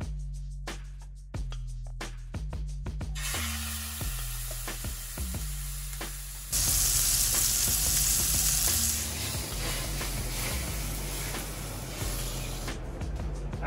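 Steak sizzles steadily in a hot pan, a loud continuous frying hiss that swells louder partway through, punctuated by sharp crackles and the occasional clink of a utensil.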